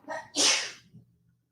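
A single sharp sneeze from a man, a short intake followed by a loud explosive burst that quickly trails off, close and alone in a quiet room.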